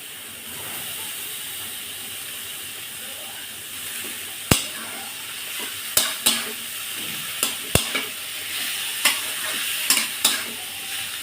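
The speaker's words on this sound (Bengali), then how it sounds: "বেশ নেড়ে চেড়ে সুন্দর করে তরকারিটা ভেজে নেব" Onion and vegetables being stirred and fried in a pan for a small-fish curry: a steady sizzling hiss, broken from midway on by a series of sharp scraping and clinking strokes as the mixture is turned.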